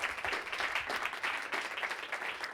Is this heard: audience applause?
yes